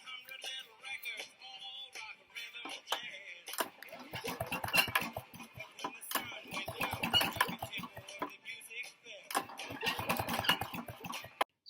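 An old Briggs engine being pull-started by its cord: repeated bursts of rapid rattling cranking, several pulls separated by short pauses, close and loud, without the engine catching into a steady run.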